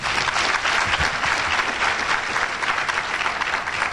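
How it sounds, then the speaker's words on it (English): An audience at a student academic excellence ceremony gives dense, loud, steady applause for ninth grade award recipients, continuing evenly with no talk over it. "Let's give them applause."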